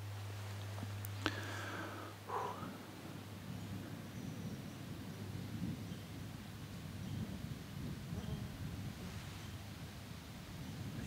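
Low thunder rumbles steadily outdoors in the woods during a bear hunt, a continuous deep, distant roll with faint rustling and a couple of brief sharper knocks near the start, no talking.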